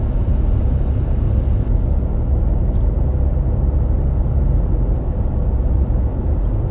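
Nitto Ridge Grappler tires on a Toyota Tacoma cruising at 30 mph make a constant low rumble and hum. It stays loud and even throughout, heard from inside the truck.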